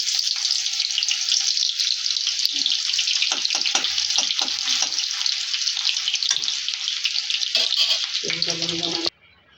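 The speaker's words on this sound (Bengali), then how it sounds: "তেলটা গরম হয়ে গেছে, আমরা এখন পেঁয়াজটা দিচ্ছি।" Onion frying in hot oil in a kadai makes a loud, steady hiss and sizzle with sharp crackles, running continuously before cutting off abruptly near the end, a voice speaking faintly beneath.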